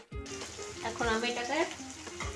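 Potatoes fry in hot oil with a close, steady sizzle and bubbling that swells midway, with faint tapping from a utensil against the pan.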